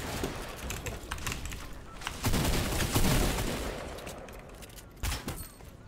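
Submachine gun fire in a video game, rapid bursts of shots over a dense battle background, with a loud sustained stretch midway and a sharp burst near the end, no talk.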